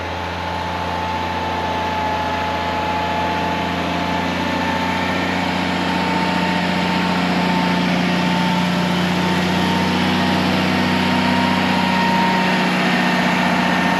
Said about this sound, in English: There's a big old grader coming.